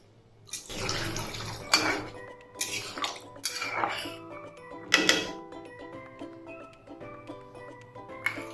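Water poured into a pot of Odia fish curry with potatoes on a home stove, a few splashy pours and clinks of pot and utensils, close and moderately quiet.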